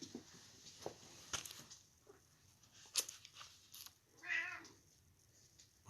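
A cat meows once indoors, a short, faint, nasal call near the end, among quiet room sounds and a few small taps and rustles.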